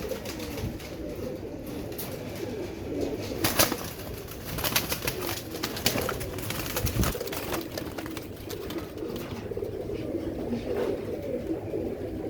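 Old-breed Teddy pigeons coo steadily at close range, their soft, throaty calls repeating over a constant background murmur, with occasional brighter chirps mixed in.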